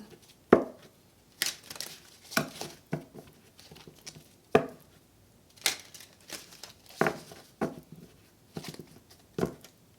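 A deck of tarot cards is shuffled close up in repeated short papery bursts and riffles, spaced about a second apart, with no voices.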